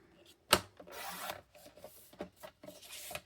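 Designer series paper being cut to size with a paper trimmer, beginning with a sharp thump and then a few scraping slides of the blade, close and fairly quiet.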